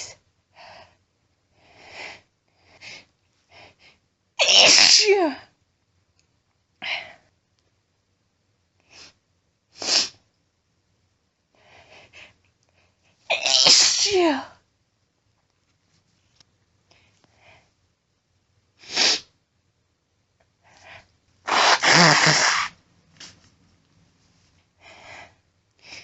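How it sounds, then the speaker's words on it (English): Several strong human sneezes break out close and loud at intervals, separated by sniffs and short breaths in the quieter gaps between them. "Gonna sneeze."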